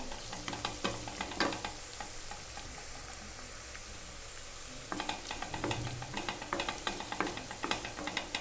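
Onion pieces frying in a pan for fish curry, a constant sizzle with rhythmic scraping as a spoon stirs them, in two bursts of stirring separated by a quieter stretch.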